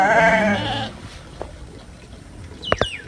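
Sheep just sheared of their wool bleat in a few short, sharp calls near the end, after a stretch of low, muffled rumbling.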